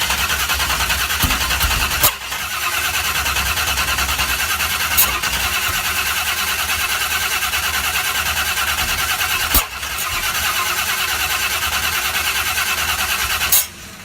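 A small-block Chevy 330 V8 with FiTech EFI in a C1 Corvette cranks continuously with a steady churning drone, loud and close, broken by a few sharp pops and brief pauses, without catching.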